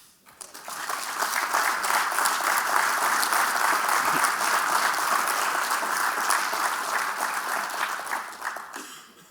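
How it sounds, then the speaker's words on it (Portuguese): Sustained applause from an audience at a round-table event marking Coaches' Day, swelling quickly and holding steady for several seconds before tapering off at the end. "Começo estas comemorações por vos pedir um caloroso aplauso aos treinadores"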